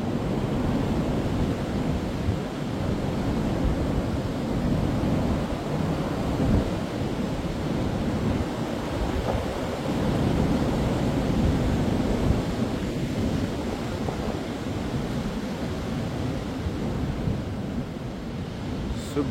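Storm Floriane's wind roars outside in a loud, unbroken rush, steady and dense for the whole stretch with no voices heard.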